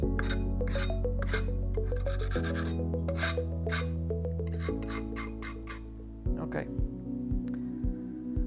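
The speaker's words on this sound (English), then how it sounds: "take a scraper and remove any of that excess material that is left behind on the aluminium" A scraper rasps across aluminium to remove leftover material, giving rhythmic rough scraping strokes that fade into a few sharp scrapes, under steady background music.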